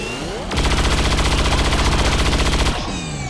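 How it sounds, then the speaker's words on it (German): Sustained automatic gunfire in the XCOM 2 video game as a soldier shoots at an enemy, a loud, rapid burst lasting about two seconds with a mechanical whirr before and after. "dann schießt du mal auf den"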